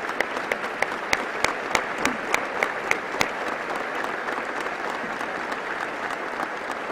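Audience applause at a governor's sixth annual state report address in Mexico, a dense sustained clapping from a large crowd with sharp individual claps popping out over the first few seconds, steady and fairly loud throughout with no talking.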